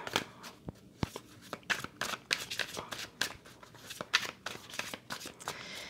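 Tarot cards are shuffled and drawn by hand, giving soft, quick riffling and flicking with light papery snaps, faint and close, with no talk.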